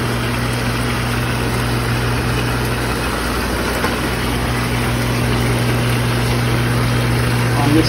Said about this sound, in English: Pump 2 is going to run the second half of the hot tub